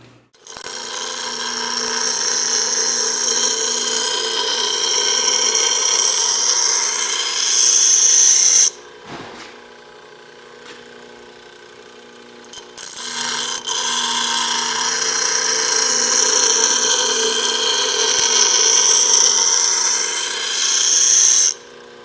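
A bench grinder dresses the edge of a metal file in a machine shop with a loud, steady, high-pitched grinding screech in two long passes separated by a few seconds of quieter wheel spin, with no talk.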